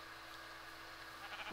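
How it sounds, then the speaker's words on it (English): Sheep in Minecraft give a faint bleat late in an otherwise steady background hum, brief and distant with no talk over it. "Hello, herd of sheep and pigs."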